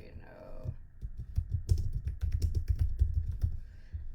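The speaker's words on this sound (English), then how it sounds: "I'm gonna type this in just so you know." Fast, uneven bursts of typing on a computer keyboard, the key clicks close and clear after a brief stretch of speech at the start.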